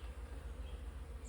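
A hive of upset honeybees hums steadily at close range while the colony is being inspected, one brief higher whine of a passing bee near the end, no voices.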